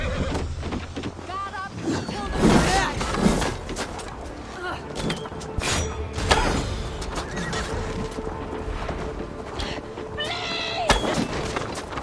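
Horses neigh and whinny several times amid clattering hooves and busy game noise in Assassin's Creed Valhalla's Siege of Paris, with voices talking underneath.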